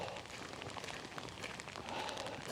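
Rain falls outdoors in a park as a steady, soft, even hiss with faint patters, fairly distant and quiet, with no talking.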